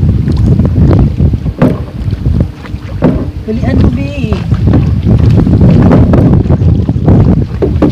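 A small boat motors across open water with a large pumpboat following behind, engine and hull noise steady and loud under strong wind buffeting, with voices talking throughout.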